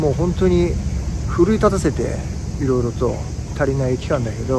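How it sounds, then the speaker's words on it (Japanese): Cicadas shrill in a steady, loud, unbroken drone outdoors in summer, running continuously beneath someone speaking. "セミの鳴き声がすごいな"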